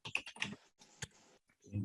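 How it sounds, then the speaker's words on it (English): Faint, quick clicks of a computer keyboard key being pressed as a shortcut while working in project scheduling software, a few short taps close by in a quiet room. "I click insert from my keyboard as a shortcut"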